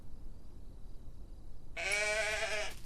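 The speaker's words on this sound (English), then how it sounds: "Oh my goodness, I almost missed the sheep." A single loud sheep bleat from the video game Solarpunk, a wavering nasal call lasting about a second, rises abruptly out of near silence near the end.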